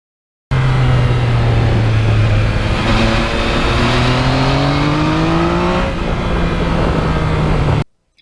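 A 2020 Yamaha MT-09 motorcycle engine drones loudly while riding, its pitch climbing through the gears in a smooth, sustained pull before cutting off abruptly.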